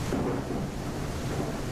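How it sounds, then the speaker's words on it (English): Thunder in the ship simulator game Nautic XP, a deep, loud, continuous rumble with rain and wind noise, no voices. "Oh, yep, we heard the thunder."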